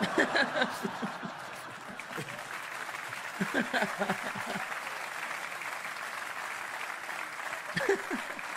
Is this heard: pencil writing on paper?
no